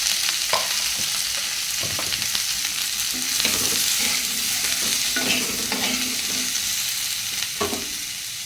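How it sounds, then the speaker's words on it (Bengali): Ivy gourd (kundri) sizzles steadily as it fries in a pan, with repeated scraping stirs of a spatula cutting through the continuous close frying hiss. "ওখানে কুঁদরি ভাজিটা হতে হতে"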